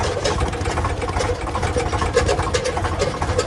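A tractor engine runs steadily on a rough road, a loud continuous close chugging drone with no pauses and no talk.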